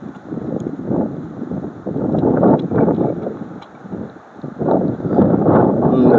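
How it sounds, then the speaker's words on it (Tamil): Heavy wind buffets and rumbles in gusts throughout on a hill road between Ooty and Kotagiri, loud and close, with the roar rising and easing several times. "பாருங்கள் எவ்வளோ காற்று வந்துன்னு நினைக்கிறேன்."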